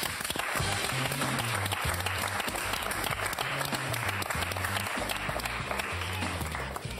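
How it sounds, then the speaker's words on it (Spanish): A television studio audience applauds steadily to welcome a guest onto a debate show, dense clapping throughout over a musical backing with a repeating bass line. "Un aplauso"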